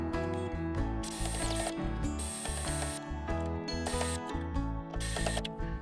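Anchor mounting hardware for a Power Pole Micro anchor on a Hobie Pro Angler kayak being tightened with a clutch-set power driver, loud whirring bursts with rapid ratcheting clicks, repeated several times close up.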